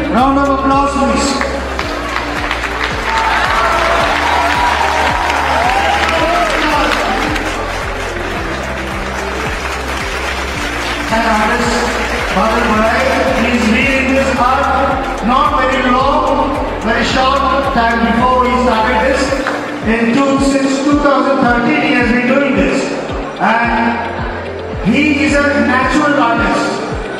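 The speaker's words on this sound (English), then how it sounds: "Give a very big round of applause, please" Sustained audience applause greets sand artist Badal Barai at a stage performance, a dense and steady clapping that runs throughout over music and a voice speaking.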